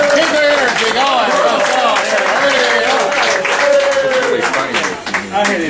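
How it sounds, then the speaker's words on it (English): An audience at a roast claps and cheers steadily and loudly for several seconds, a dense wash of applause that tapers near the end, with a voice speaking over it. "Hey, round of applause!"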